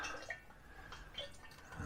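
Engine oil draining from a Ford Mustang S550 V8 into a catch pan, a soft steady trickle with faint gurgles and drips throughout, low in level.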